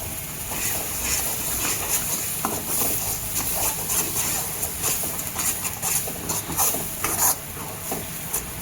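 Ground masala paste roasts in hot oil, hissing and sizzling steadily with irregular scraping and stirring clicks from a spoon in the pan, close and moderately loud, with no talking.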